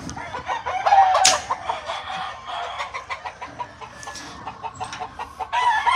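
A Lazy Roundhead gamecock crows among two Claret hens, a strained call rising over steady farmyard clucking and chatter from other birds close by.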